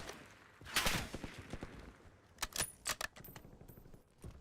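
Scattered gunfire in Call of Duty Warzone on the Verdansk map, a few sharp shots and short bursts spread across the moment, with one louder crack early and fainter distant pops after.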